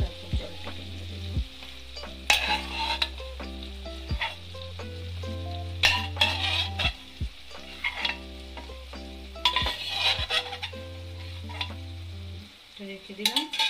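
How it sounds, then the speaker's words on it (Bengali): Mixed lentils for Bengali-style dal tadka, stirred and fried with spices in a pan: steady sizzling broken by repeated scraping stir strokes and occasional clinks of the spoon, close and fairly loud, with no talking. "এইভাবে ডালটিকে আমরা 2 থেকে 3 মিনিট ভালো করে মশলার সাথে নাড়িয়ে নেব"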